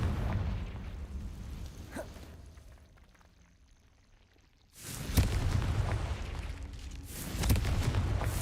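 Confringo, an explosive spell in Hogwarts Legacy, goes off after a quiet, low stretch. A sudden loud blast hits and then rumbles on with sustained crackling, swelling again near the end.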